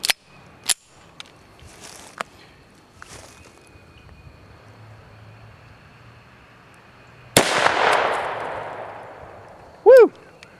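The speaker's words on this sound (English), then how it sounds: "I'm going to shoot at the spam cam on the left" A Kimber pistol fitted with a .22 LR Stinger conversion kit fires outdoors, giving a few sharp cracks early on and then one louder blast with a long decaying tail, followed by a brief whistling ring.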